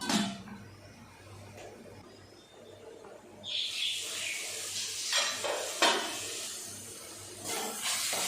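Beetroot cooks in a covered pan: a faint low hum, then a steady hissing sizzle that swells, with occasional soft clinks of the pan.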